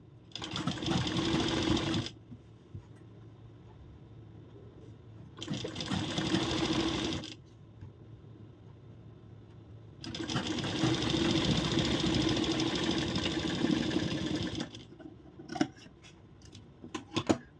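A sewing machine stitches a princess-cut blouse sleeve in two long, steady whirring runs split by a quiet pause, with small clicks and handling noises at the end.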